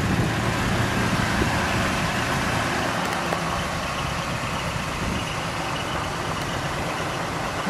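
A 1959 Ford Fairlane 500 Galaxie Skyliner convertible idles close by with a steady, even engine rumble that holds unchanged throughout.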